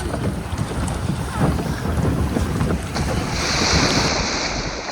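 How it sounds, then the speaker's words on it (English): A boat pounds across rough sea waves on the crossing toward Koh Lipe, Thailand, with steady loud wash, spray and wind buffeting the microphone close up, and no talking. "Waves start hitting hard and the people at the back of the boat get soaked for the next 2 hours"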